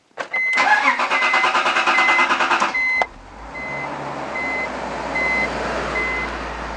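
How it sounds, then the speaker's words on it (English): Close by, a BMW E46 330i engine cranks with a rhythmic, pulsing whir for a few seconds, then catches and settles into a smooth, steady idle, with faint repeating electronic chimes above it and no talk. "I'm going to start it up and see what happens."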